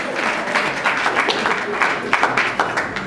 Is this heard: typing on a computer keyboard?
no